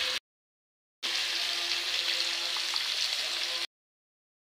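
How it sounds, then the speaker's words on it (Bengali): Vegetables frying in a pan with turmeric and salt give a steady, even sizzle for a few seconds, bracketed by brief silences. "ভাজি করে নেবো এটাকে একটু।"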